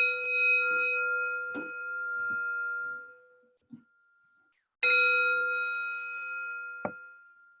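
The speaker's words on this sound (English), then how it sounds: "I'll start and stop with the sound of the bell." A meditation bell is struck twice, each strike ringing out in a clear sustained tone that slowly fades. A few soft knocks fall between the strikes, and no one talks.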